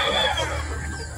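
Gamefowl roosters at a game farm cluck and murmur close by in a brief, continuous stretch of low farmyard noise.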